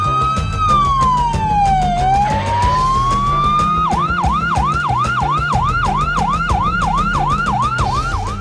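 A hospital ambulance siren in North Sumatra sounds loud and close: one slow rising and falling wail, then a rapid repeating yelp that continues steadily.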